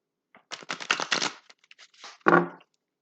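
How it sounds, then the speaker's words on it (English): A deck of tarot cards riffled in a quick shuffle, a close rapid flutter of card snaps followed by a few light taps and a final brief burst, with no talking. "Okay, we'll do one last quick shuffle."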